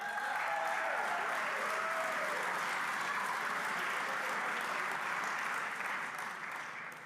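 Sustained applause from a large crowd at a university student-athlete awards show, a dense, even roar of clapping that holds steady for several seconds before beginning to taper, with faint voices mixed in at the start.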